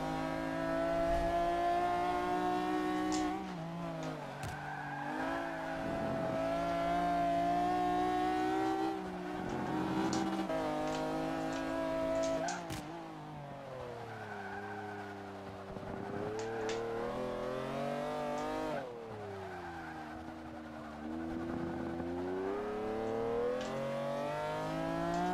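A race car's engine in a racing video game roars steadily through a lap, revving up and down with gear shifts and throttle changes, loud and close, with brief tire chirps and no voices.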